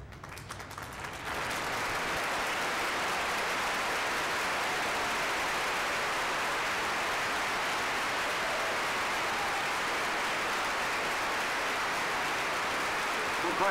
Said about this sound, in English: Nice round of applause for your winner in the 18T